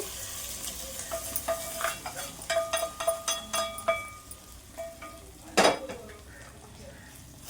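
A sizzling tempering is tipped into pongal and stirred, with rapid clinks and scrapes of a spoon against the pot, the frying hiss rising and fading and one loud clatter near the end.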